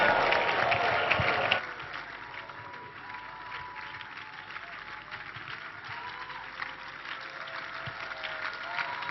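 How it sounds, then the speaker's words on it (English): A church congregation applauds and cheers, loud and dense at first, then settling into softer, sustained clapping that carries on steadily to the end. "If you are, you will clap more for Jesus"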